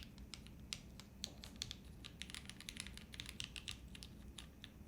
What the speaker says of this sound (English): The moment I press this down, it clicks all the keys in the left side.